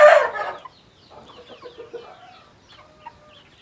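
Kopsu hens cluck nearby, opening with one loud squawk and then a run of soft, choppy clucks and short calls that fade into quiet gaps.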